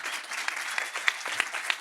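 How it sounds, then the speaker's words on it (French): A seated audience at a sailing talk applauds briefly, a soft, even patter of many hands with a few crisp individual claps, heard at moderate distance without speech. "Vous pouvez les applaudir."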